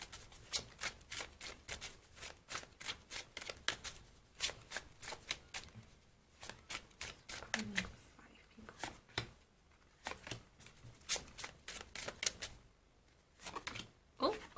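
Tarot cards are shuffled and pulled in a rapid series of crisp riffles and flicks, close and fairly quiet, with brief pauses between bursts.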